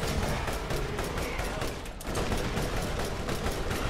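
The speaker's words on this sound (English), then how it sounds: "I'm shooting at it." Gunfire aimed at an enemy in Borderlands, a rapid sustained volley of loud shots, dense and continuous with a brief dip midway, no talking over it.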